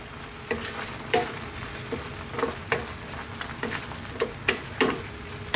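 A spoon or spatula stirs Bicol Express with bagoong as it fries in a pan. The sizzle runs continuously under about a dozen rhythmic scraping strokes.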